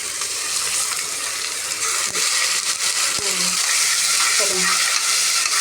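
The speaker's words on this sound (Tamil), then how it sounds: "இஞ்சி பூண்டு போட்டாச்சு. ஒரு 2 நிமிஷம் வதங்கினோடனே தக்காளி போடணும்." Ginger and garlic fry in a pan for vegetable rice, a steady loud sizzle with a few scraping stirs and light clinks. A brief spoken word sits over it.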